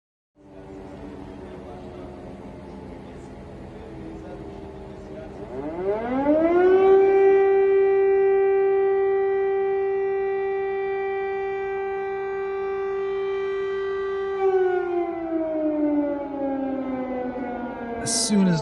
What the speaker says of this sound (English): We took the liberty to sample the air raid sirens that blasted over Kiev earlier this year